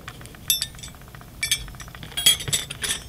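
Metal spoon and fork picked up on a beach clink together in several sharp, bright taps, clustered in small bursts with quiet gaps between them.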